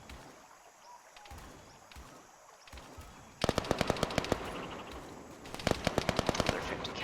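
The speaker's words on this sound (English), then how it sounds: "Another 50 cals going off on him." A .50 caliber machine gun firing in Arma 3 in a Vietnam-era defensive battle, loud sharp repeated bursts of heavy shots that start suddenly over a rushing background and come in rapid rhythmic volleys.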